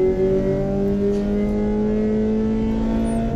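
Race car engine at VIR's Oak Tree corner pulling hard in third gear after braking, a loud, steady rising harmonic drone held close and continuous throughout.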